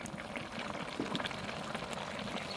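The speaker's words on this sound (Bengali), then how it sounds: "মুরগির মাংসটা অনেক সুন্দর করে কষিয়ে নিচ্ছি আমি।" Chicken pieces braise in a pan in their own released juices with tomato, giving a bubbling, simmering crackle with soft stirring bursts, moderately quiet and close.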